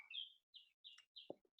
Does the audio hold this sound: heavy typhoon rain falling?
no